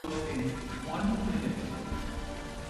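Steady rain falls in a film scene from Mockingjay Part 1, a dense continuous patter under music and muffled voices throughout, with no distinct thunder.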